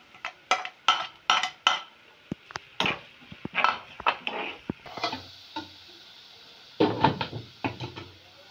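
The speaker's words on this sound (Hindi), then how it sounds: "सबसे पहले शिमला मिर्च हमारी फ्राई हो रही है" Capsicum frying in a pan, with carrots to follow, gives a run of sharp close clacks and scrapes as a spatula turns the vegetables over a faint steady sizzle.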